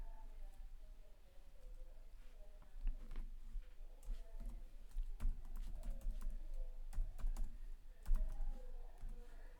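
Someone types an email address on a computer keyboard while downloading software. The keystrokes come in a steady stream of close, light clicks over a low background hum.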